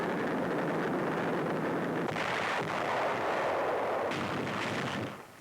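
Naval bombardment of the beach on Guam during a WWII assault, a continuous loud roar of heavy gunfire and blasts with rumbling surges around two and four seconds, fading at the end.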